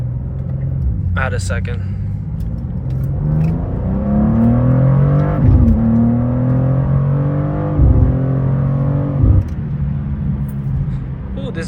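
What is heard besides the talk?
BMW G87 M2 car accelerating hard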